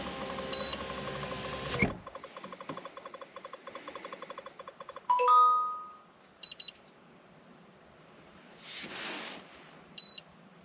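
A series of electronic beeps and tones from a BMW diagnostic scan, some in quick repeated runs and others as single short bleeps, with quiet gaps between them.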